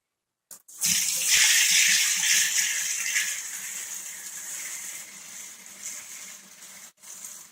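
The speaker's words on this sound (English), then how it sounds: "I'm going to pour it into the bucket to aerate it through a" Homebrewed brown ale poured into a bucket through a strainer to aerate it, a loud steady gushing splash that starts abruptly and runs for several seconds before stopping.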